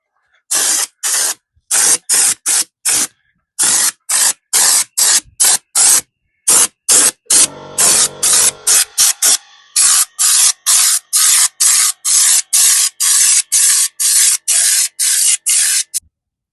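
Loud, close bursts of abrasive blasting spray hitting a truck panel, a long run of short hissing blasts with gaps between them, then a steadier stretch of quick rapid pulses.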